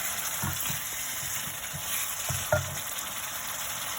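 Butter and spices fry in a pan as biryani is cooked, producing a steady, moderately loud sizzle with soft stirring thumps and one brief louder clatter.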